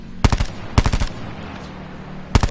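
Machine gun fire in Call of Duty Blackout: three short, rapid bursts of loud close shots, separated by quiet gaps.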